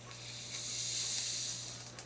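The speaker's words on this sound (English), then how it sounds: "Let's hear the fizz." Carbonated milk (Milkis) fizzes in a glass after pouring, a soft, steady close hiss of bubbles that swells and fades over a couple of seconds.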